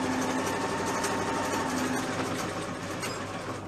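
A sewing machine stitches leggings back and forth, a fast, steady mechanical whirring and chatter running close and continuously for a few seconds without any talking.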